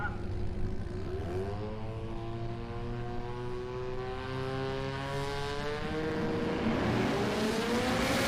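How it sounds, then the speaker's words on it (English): A Mazda 13B turbo rotary drag car accelerates down the strip through its gears, a loud buzzing engine note climbing in pitch with each shift, heard from a distance at a radial racing event. "Archie gets the little Mazda going, goes through the gears, good run for him, 590."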